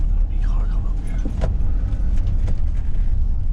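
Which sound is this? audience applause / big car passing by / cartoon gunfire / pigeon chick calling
big car passing by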